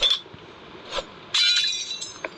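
Plates clink in the video game The Baby in Yellow: a few short, bright ceramic clinks, one at the start, a faint one midway and a louder ringing clatter near the end, heard alone.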